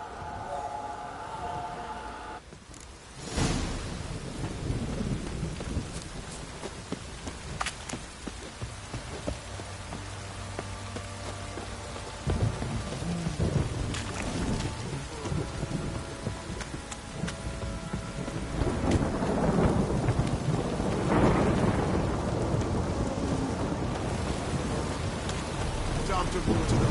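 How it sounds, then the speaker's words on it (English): A steady downpour hisses in the background of The Witcher 3: Wild Hunt video game while people talk over it, with occasional rumbles of thunder and some clattering movement. "This downpour's a bastard, it is."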